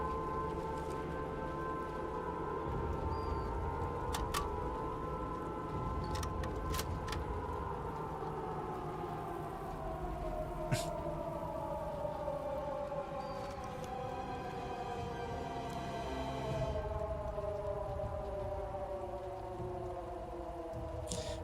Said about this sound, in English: the air raid siren doesn't count as a sound mask also